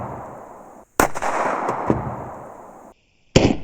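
Two loud, sharp 9mm gunshots fire 124-grain Hornady Custom XTP bullets during penetration testing. Each crack is close and lasts a moment, followed by a lingering decaying tail, with the shots about two seconds apart.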